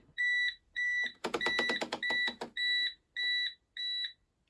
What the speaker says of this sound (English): it started beeping at me.